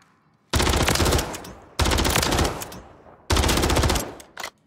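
Gunfire in a video game shooter comes in three loud bursts of rapid automatic fire, each a dense close rattle, with short quiet gaps and a final brief shot.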